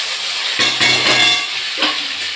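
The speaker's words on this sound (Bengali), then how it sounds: "পেঁয়াজটা দিয়ে দেবো," Chopped onion dropped into hot oil in a pan while cooking a Bengali chicken curry with potatoes, giving a loud, steady sizzle that swells at the moment the onion lands and keeps hissing.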